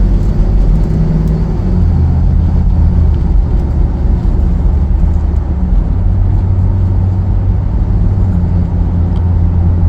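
A Ford F-450 XL regular cab chassis truck with a Supreme box body drives along the road, its steady low engine and road rumble droning continuously close by without any talk.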